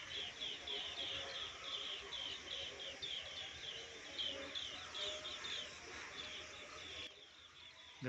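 Sparrows perched along an overhead wire chirp steadily in a dense, continuous chorus of high twittering. The birds sound moderately close over a constant outdoor hum, and the flock thins near the end.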